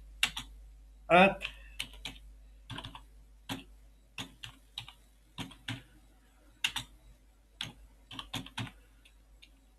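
Typing on a computer keyboard while editing in Vim, a series of separate light key clicks in an uneven rhythm, close and fairly quiet, with a brief spoken word near the start.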